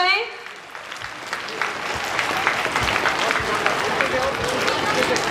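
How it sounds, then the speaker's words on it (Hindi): An audience at a school silver jubilee celebration breaks into loud applause after a brief pause. Dense clapping swells and holds steady for several seconds, with faint crowd murmur mixed in. "जोरदार तालियां हो जाए।"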